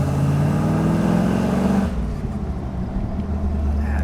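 A Jeep CJ engine breathes through Patriot headers and a hand-built custom exhaust, a loud close rumble that revs strongly at first, then settles to a lower, steadier idle-like drone.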